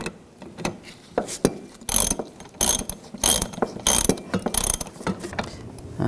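Ratchet clicking in quick bursts while tightening a nut on a new rear shock absorber mount of a 2009-2017 Volkswagen Tiguan, close and distinct, alone without talk.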